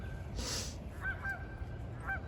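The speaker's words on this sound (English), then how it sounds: "There's geese on the pond." Geese on a pond beside a home garden give a few faint, distant honks, spaced about a second apart over a steady low outdoor rumble, with a brief hiss of wind early on.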